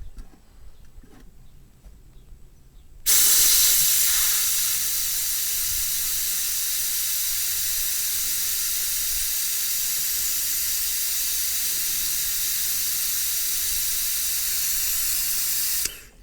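Vacuum bleeder drawing brake fluid and air through a hose on the brake caliper of a 1986 Vauxhall Cavalier: a loud, steady hiss starts abruptly after a quiet moment and holds evenly for over twelve seconds before cutting off.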